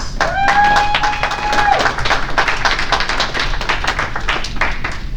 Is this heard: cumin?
no